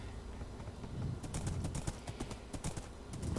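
Horse hooves clip-clopping in the video game Minecraft, with irregular sharp hoof taps over a steady noisy background. The horse is white and the scene is a large biome.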